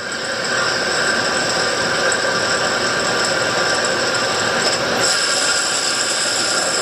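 Live tool on a 2008 Doosan Puma 2000SY CNC lathe turret spinning at 1,200 RPM, a steady loud machine whine with bright high tones over broadband mechanical noise, continuous throughout with a slight shift near the end.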